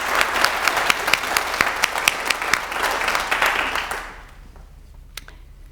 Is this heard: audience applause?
yes